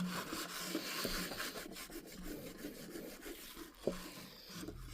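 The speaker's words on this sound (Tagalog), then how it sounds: "tissue lang naman yung pinangkukuskus ko" A tissue scrubs a thick, sticky spider web off a surface, producing a faint, continuous rasping rub with small irregular scratches and one brief tap near the end, close and quiet.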